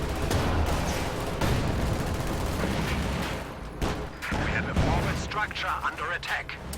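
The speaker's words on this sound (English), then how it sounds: "Looks like the Priest is just barraging away at this bunker." Priest self-propelled artillery barraging a bunker in Company of Heroes 2, with dense continuous booms and gunfire in the battle mix, heard under steady commentary.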